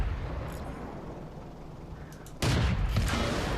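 A tank gun fires in World of Tanks, a single sudden loud blast cutting through a low engine rumble and sustaining into a rolling boom.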